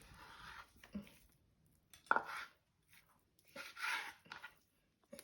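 Knife chopping through pork on a board, a few irregular thuds and cuts with pauses between, close and fairly quiet.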